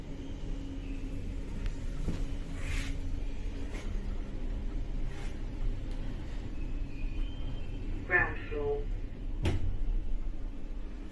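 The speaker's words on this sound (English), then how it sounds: "Lift going down." An Otis hydraulic lift in a shopping centre descends with a low, steady mechanical hum and rumble, broken by a few faint clicks and knocks and one brief squeak near the end.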